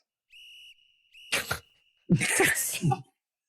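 A single steady football halftime whistle sound effect, clear and fairly loud, followed by a brief burst of noise and then a short stretch of lively voices.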